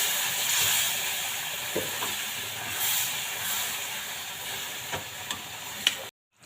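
Kadhi ladled into a hot pan while making methi palak kadhi, a steady close hiss and sizzle that holds evenly throughout, with a few faint clinks and taps before cutting off.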